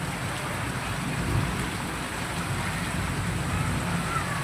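The first monsoon rain pours down over a village, a constant, dense hiss of falling water with a faint low rumble underneath.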